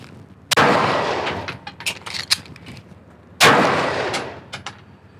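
Two loud, sharp pistol shots crack about three seconds apart during a reload drill, with small clicks and handling noises of the gun and magazine between them.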